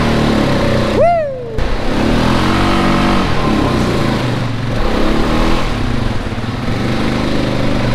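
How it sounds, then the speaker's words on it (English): An engine revs hard during a burnout in dust on a farm, with a loud sustained roar and rising and falling revs, close by; a brief whistle-like squeal cuts in near the start. "who other than me loves to do burnouts in the dust?"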